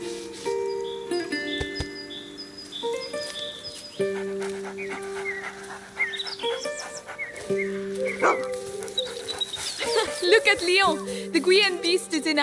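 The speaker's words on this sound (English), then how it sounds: "Oh, we can pet the dog." Dog in the video game A Plague Tale: Innocence, panting and giving soft barks and whimpers amid game music and sound effects, with someone talking over it.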